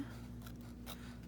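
Scissors snip paper for journal tags, producing two quiet crisp cuts close by with no talking.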